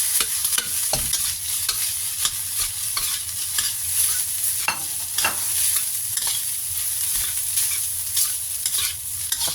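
Rice being stir-fried in a pan for tuna kimchi fried rice gives a steady, close sizzle broken by repeated scrapes and clacks of a spatula stirring, with no talking.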